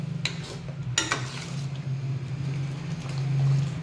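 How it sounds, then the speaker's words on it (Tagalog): Tomato with salt sautéing in a pan for spaghetti sauce gives a steady, close sizzle, with a couple of sharp utensil clinks early on over a low continuous hum. "Igisa natin yung tomato"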